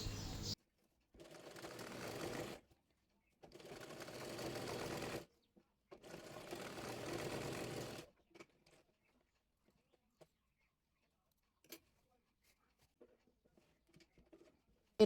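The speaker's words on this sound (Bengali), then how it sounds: "আলতো করে রাবারটি টেনে টেনে রাবারটি সেলাই করে" A sewing machine stitches elastic onto salwar fabric in three loud bursts of fast rhythmic running, each a couple of seconds long with brief pauses, then stops, leaving faint scattered taps and rustles.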